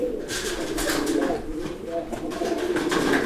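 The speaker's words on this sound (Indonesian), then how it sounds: "Ini jantan, udah mulai coba bekur sih." A young male pigeon tries out soft, rough cooing in short repeated bursts over a hissy background, with a voice murmuring faintly nearby.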